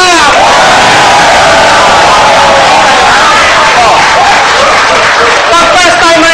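Seminar audience clapping in unison on a count, loud dense clapping with cheering and crowd voices filling the room throughout.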